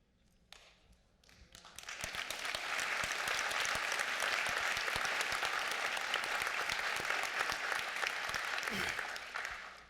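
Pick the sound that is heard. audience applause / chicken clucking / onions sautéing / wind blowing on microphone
audience applause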